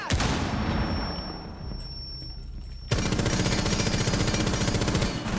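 Rapid automatic gunfire in the video game Rainbow Six Siege, loud dense bursts of shots with a brief ringing tone, then an even heavier sustained stream of fire that runs to the end.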